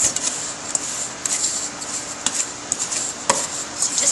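Butter and sugar worked together by hand with a wooden spoon in a bowl, giving soft repeated scraping and rubbing strokes with a few sharper clicks of spoon against bowl, close up and steady, with no talking.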